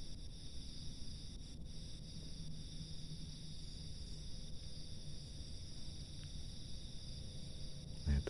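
Steady, faint trilling of field crickets in a rice paddy, a continuous high chirping chorus that persists throughout with a brief low knock at the very end.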